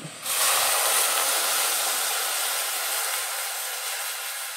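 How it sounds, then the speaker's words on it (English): A steady broadband hiss of boiling water rushing and steaming as it is poured into a pot, loud and continuous after a brief quiet start, with no voices. "So we'll put boiling water on top of here."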